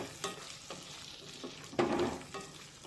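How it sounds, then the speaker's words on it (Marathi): A spoon stirs ridge gourd with coarse peanut powder and chopped coriander in a pan, soft scraping strokes recurring with one longer, louder stir near the end, faint and without talk. "मिक्स करून घेऊया"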